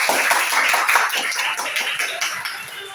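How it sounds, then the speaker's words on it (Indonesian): Classmates clap for the first group of presenters in a school session, a lively patter of many hands that starts strong and gradually thins out, with no talking over it. "Semua tepuk tangan untuk kelompok 1."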